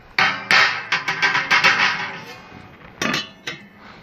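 The metal ring of a Solo Stove Ranger fire pit is set into its groove, giving a quick run of sharp metallic clanks and clinks, close and uneven in rhythm, followed by a few lighter taps.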